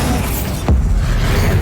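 Bombarda blasting spell from Hogwarts Legacy on PS5: a single sharp, falling whoosh that lands in a heavy booming impact, loud and close over steady game noise.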